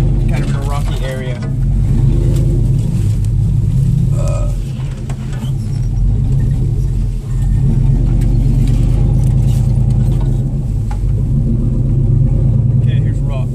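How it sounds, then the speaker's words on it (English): A truck's engine rumbles steadily and loudly up close as it drives over rocks offroad at Skiatook Lake and pulls in to park, with people talking over it. "So I'll park my truck kind of in a rocky area."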